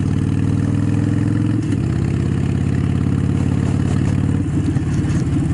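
Motorcycle engine droning steadily while riding, with a shift down before a turn, the pitch stepping partway through and a brief dip near the middle; loud, close and continuous, no voices.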